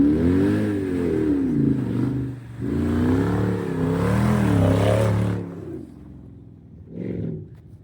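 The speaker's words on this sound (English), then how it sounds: "you can hear that G55 just screaming" A Mercedes G55 G-Wagon engine revs hard, rising and falling in pitch for several seconds, then drops to a low idle with a short rev at the end.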